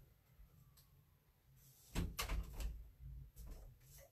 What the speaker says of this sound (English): Let me close my crafty room door